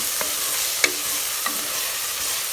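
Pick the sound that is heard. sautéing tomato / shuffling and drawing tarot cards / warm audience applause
sautéing tomato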